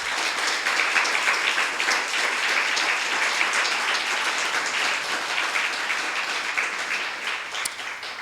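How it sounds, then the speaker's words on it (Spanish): Sustained applause from a church congregation, dense clapping at moderate level that continues evenly and tapers slightly at the end. "Denle un aplauso al Señor"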